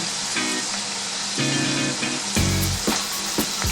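Bison burger patties sizzle steadily in a hot pan, a dense, close frying hiss that swells louder partway through with a few sharp pops and crackles near the end.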